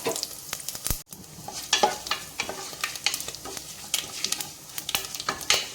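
Whole spices, including cumin seeds, sizzle in hot oil in a cooker pan for a butter beans pulao while a spoon stirs them, giving crackling fry noise broken by sharp scraping stirs, close and clear, with no talking.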